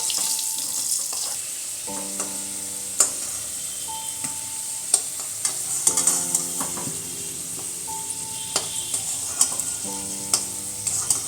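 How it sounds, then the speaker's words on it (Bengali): Potatoes fry in oil for a fish curry as a spatula stirs them, producing an even sizzle broken by sharp metallic clinks and scrapes on the pan, with a few ringing tones among them, close and without voices. "আলুগুলো লাল করে ভেজে নিয়েছি এবার তুলে নেবো"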